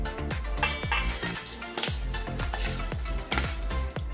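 Cooked moong dal is scraped out of a pot into a wide plate, with repeated sharp metallic clinks and scrapes of a spoon against the metal vessel in an uneven rhythm, close and clear with no talking.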